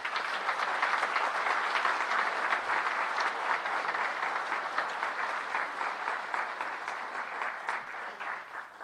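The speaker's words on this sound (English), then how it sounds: "For another round of applause for our inductees today." Steady applause from a large seated audience at a college athletics Hall of Fame induction ceremony, honoring the 39th class of inductees; dense, continuous clapping that holds strong for the whole stretch and tapers slightly near the end.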